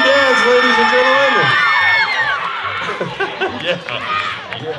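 A Roller Derby crowd at a Halloween costume contest in Temecula whoops and cheers loudly, high shrill yells sliding over a dense roar of voices that gradually settles into scattered calls and chatter.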